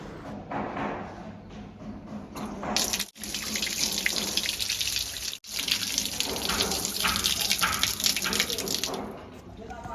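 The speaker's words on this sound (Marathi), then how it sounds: "आता आपण ती स्वच्छ धुवून घेणार आहोत" Running tap water splashes steadily into a sink while a fresh drumstick pod is rinsed, a continuous close wash with two brief breaks in the flow.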